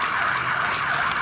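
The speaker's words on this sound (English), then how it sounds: "Please excuse the sirens." Emergency vehicle siren in a Copenhagen park, loud and steady, a continuous wailing tone holding through the brief moment with no pause, heard alone without talk.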